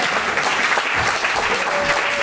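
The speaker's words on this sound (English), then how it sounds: "Trent Moran, get up here so we can clap for you." An audience claps steadily for performers at a stage show, a dense, close burst of applause with no talking.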